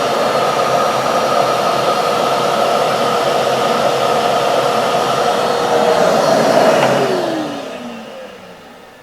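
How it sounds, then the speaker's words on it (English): A loud, steady vacuum motor whooshing continuously, then winding down with a falling pitch near the end. "A single vacuum cleaner just isn't moving enough air."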